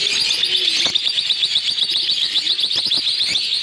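Lovebirds and their chicks in a breeding nest box chirp nonstop in shrill, rapid, overlapping calls, close and fairly loud.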